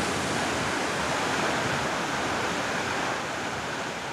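Waterfalls pour among stone formations, making a steady, full rushing roar of falling water that holds an even, close loudness throughout with no voices.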